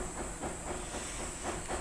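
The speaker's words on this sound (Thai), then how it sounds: "ร้อนน้ำเดือด เอาเนื้อลงไปลวกครับ" A pot of water at a rolling boil for blanching meat gives off a steady, dense hiss and bubbling. The sound is close, with no speech.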